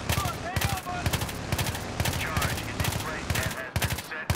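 Rapid bursts of gunfire from burst-fire weapons in the video game Battlefield 3, multiplayer on PS3, crack out again and again in short volleys, loud and close, with a voice now and then between them.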